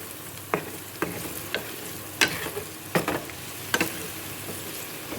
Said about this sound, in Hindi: इसको हम 2-3 मिनट के लिए फ्राई करेंगे ताकि मिर्चें फ्राई हो जाएं, हरी मिर्चें